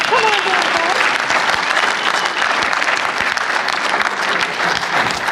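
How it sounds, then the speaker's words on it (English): A conference audience at the Humans to Mars Summit claps loudly as a panel is welcomed to the stage, a dense, continuous roar of applause with a faint voice briefly audible beneath it. "I think you're going to have to clap louder."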